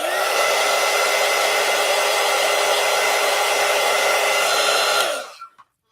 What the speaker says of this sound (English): So you got to let that dry, which, I have my heat tool here.